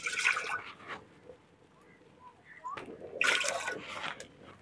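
Water pours into a pot of sugar syrup for village-style peanut candy, in two splashing bursts separated by a quieter stretch, close and moderately loud.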